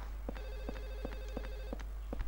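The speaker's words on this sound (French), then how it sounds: "j'entends le téléphone comme s'il était dans la pièce" Telephone ringing in the survival horror game Silent Hill 4: The Room, a rapid repeating electronic bell trill pulsing in a steady rhythm, moderately faint over a low hum.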